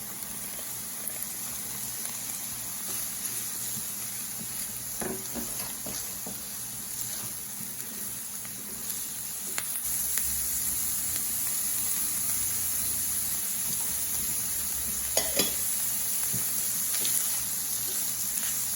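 Onions and leftover Thanksgiving turkey cooking in a pan, a faint steady sizzle with occasional light stirring scrapes and clicks, growing slightly fuller midway, with no talking.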